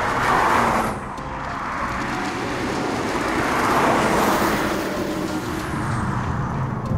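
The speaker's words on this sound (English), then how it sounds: "It's got exactly the same stonking great turbo diesel engine up the front" Steady, broad roar of an Alpina D4 Biturbo with its turbo diesel engine on the move, wind and road noise swelling slightly midway and holding constant without pauses.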